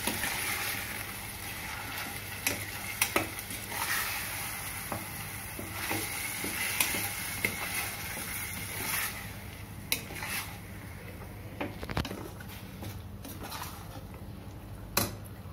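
Fish curry being stirred in a pan, with a steady broadband sizzle and scattered scraping and clinking of a utensil against the pan throughout, fairly close and without talk.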